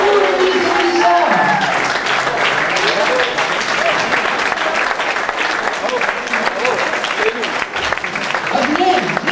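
Guests at a charity dinner applaud as pageant contestants are introduced, a sustained, loud round of clapping with voices mixed through it and a host speaking over the crowd.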